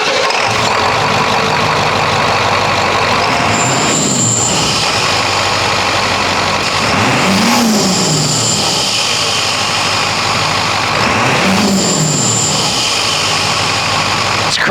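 A Ford 7.3L Powerstroke diesel truck engine running without an air filter, with a loud, close, steady rumble and intake whoosh rising in about three rev swells.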